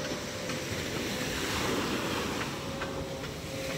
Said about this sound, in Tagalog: inabot tayo ng alon dito. Malaki ang gulong ng alon mga kamay.